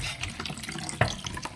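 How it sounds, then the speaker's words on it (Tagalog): Water runs from a tap or is poured into a dog's drinking bowl for a dog named Luka, a steady splashing trickle with a small clink near the middle. "Bigyan ko muna siya ng tubig doon sa kanyang inuman"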